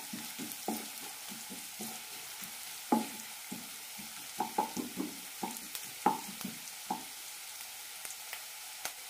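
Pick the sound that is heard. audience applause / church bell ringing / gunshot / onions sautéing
onions sautéing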